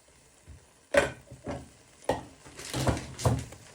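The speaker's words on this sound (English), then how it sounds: "Give that a good stir." A spoon stirs Parmesan through a pan of bruschetta prawns, making several soft scraping knocks and brief sizzles at uneven intervals, fairly quiet and with no talk.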